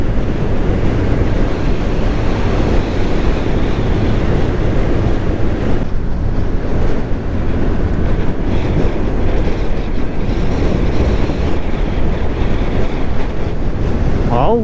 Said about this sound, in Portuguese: Tá descendo de lá o vento, ó,